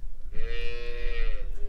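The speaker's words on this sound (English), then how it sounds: "we can see some of our cattle from Lyell Brown have made their way over already" A single cow from a mustered cattle herd on an Australian station gives one drawn-out, fairly close moo lasting about a second, over low outdoor background noise.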